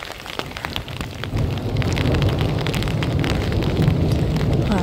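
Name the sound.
thunderstorm with rain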